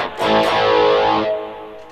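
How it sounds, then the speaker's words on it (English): Electric guitar played through a Tom Scholz Rockman with echo and chorus blended in, a sustained distorted chord ringing for just over a second before decaying into a delay tail, with no talking. "Let's blend it back together again with the echo and the chorus."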